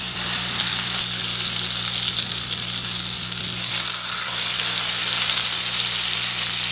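Panettone French toast soaked in custard sears in a hot pan, giving a loud, even sizzle that runs throughout with low kitchen hum beneath.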